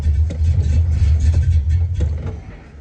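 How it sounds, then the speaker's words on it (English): A hot rod car engine running after a start on a hill, a loud, close, steady low rumble that holds throughout with slight swells and no talk. "Austin's trying to show off that his car starts easier than mine"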